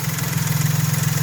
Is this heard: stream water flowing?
no